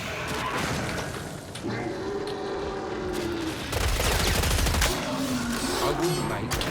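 An automatic turret fires in Killing Floor 3, a continuous rattle of rapid gunfire with heavy thuds and impacts, growing louder toward the end, mixed with a voice.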